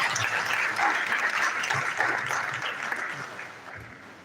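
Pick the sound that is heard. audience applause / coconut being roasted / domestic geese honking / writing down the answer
audience applause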